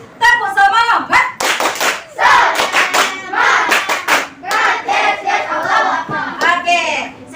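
Pupils in a classroom clap a rhythmic tepuk semangat chant in bursts, sharp and close, alternating with loud chanting voices of the children and a teacher.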